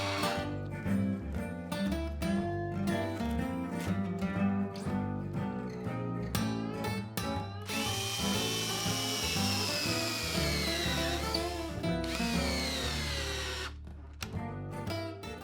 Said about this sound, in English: First, boring pilot holes, then driving in weatherproof screws.